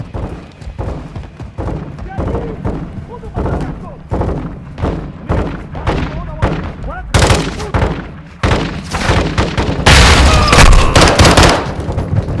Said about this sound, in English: crash site is taking rocket fire from Building 2